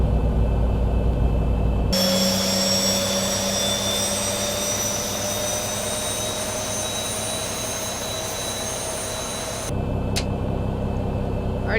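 Simulated Boeing 737 engine number 2 in X-Plane 11 spools up to full power: a loud, steady jet roar with a high whine, starting abruptly, holding level, then cutting off, with quieter background before and after.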